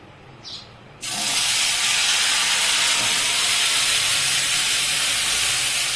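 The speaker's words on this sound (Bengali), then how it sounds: "কষা মশলাটা এখন আমি তেলে দিয়ে দিব" Spice paste hits hot oil with ghee and dried red chillies for paneer biryani, erupting into a loud, steady, close sizzle that starts abruptly after a second of quiet and holds for several seconds.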